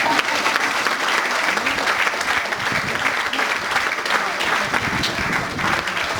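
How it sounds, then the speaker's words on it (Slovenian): An audience at a grape harvest celebration in Svetinje breaks into sustained applause, a dense, even patter of many hands clapping that carries on steadily for several seconds. "gre za ploskanje."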